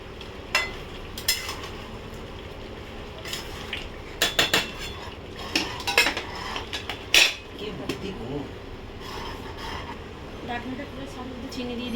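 A spoon clinks and scrapes against a pot while mutton curry is stirred, giving scattered sharp metallic knocks over a faint low background hiss, fairly quiet overall.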